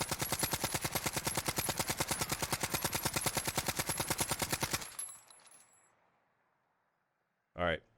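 Sustained rapid automatic fire from an AN94 assault rifle in the game Warzone, a loud, dense rhythmic burst of shots lasting about five seconds, then a fading tail, near silence, and a brief sharp mechanical click near the end.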